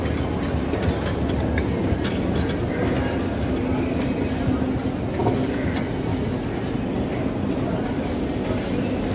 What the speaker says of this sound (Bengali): শিয়ালদা স্টেশন থেকে ক্যানিংগামে একটি লোকাল ট্রেনে আমরা সবাই উঠে পড়লাম।